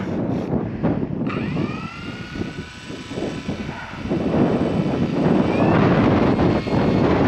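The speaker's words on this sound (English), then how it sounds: "Just as a gust of wind comes" Wind gusts buffet the microphone at an RC model airfield where a scale F7F Tigercat warbird is flying, a loud, rough rumble that swells near the end, with the model's thin engine whine faintly audible above it.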